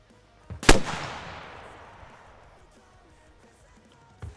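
A single loud rocket launcher shot in Arma Reforger, a sharp crack trailing into a long fading whoosh, with a faint thump near the end.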